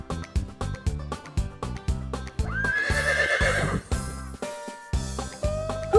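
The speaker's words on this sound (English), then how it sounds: "A horse!" A cartoon horse on a children's farm animal show gallops with steady clip-clop hooves, then lets out a bright, rising whinny in the middle. The hoofbeats resume afterward, clear and close.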